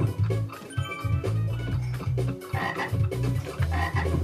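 Toads croak in a Mr. Bean video game, a dense chorus of low, repeated throaty pulses with a steady rhythm, fairly loud and continuous without talk.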